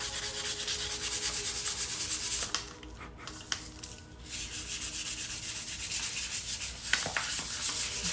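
220 grit sandpaper, folded, rubbed over a Vespa legshield trim in quick, even strokes, a close, dry scratching with a couple of brief pauses and light taps.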